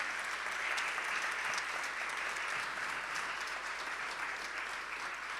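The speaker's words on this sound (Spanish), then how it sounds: "Podéis aplaudirle a Él." Church congregation applauding together, a continuous, even wash of many hands clapping, heard faint and somewhat distant throughout, with no break and no talking.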